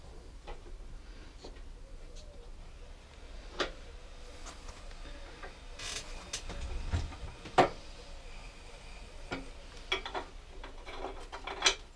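A wrench ratchets and clicks while a bolt is loosened on a Honda Izy scooter; a close, irregular run of metallic ticks and taps, with no talking.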